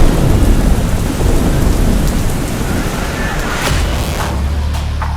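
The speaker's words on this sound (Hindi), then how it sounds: "बादल बरस रहे हैं, रास्ते नदी में बदल रहे हैं" Heavy monsoon downpour in Gujarat, with dense, loud, continuous rain hiss and deep rolling thunder rumbling throughout.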